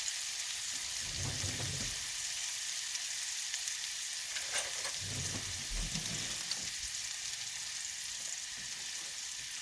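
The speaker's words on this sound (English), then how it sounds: "I'm going to add all of this garlic in here and just let that brown up a little." Garlic browns in butter in a pan, with a steady, soft sizzle and crackle running throughout and a couple of low rumbles from the pan being moved.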